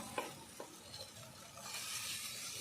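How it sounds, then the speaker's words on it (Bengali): Fried cauliflower is stir-fried with spices in a pan for a cauliflower and egg curry: soft, steady stirring and low sizzling, with a couple of scraping clicks early on. It sounds quiet and close, with no voices. "ভেজে রাখা ফুলকপি দিয়ে দিলাম ভালো করে মশলা দিয়ে কষিয়ে নিচ্ছি"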